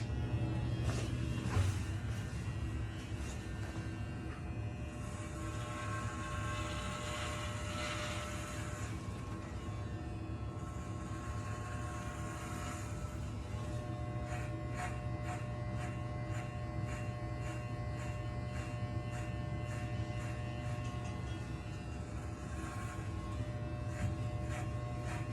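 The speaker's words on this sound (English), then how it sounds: "I'll get the next guard, number 2, a 1/4 inch. I'll cut higher around as I go" Electric hair clippers fitted with a number 2 quarter-inch guard buzz continuously while cutting hair on a head, a steady close-up hum that shifts in tone as the blade passes through the hair.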